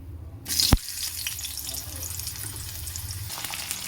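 Cut potatoes fry in hot oil after fish, a sudden clatter as they go in, then a soft steady sizzle running close and moderately quiet.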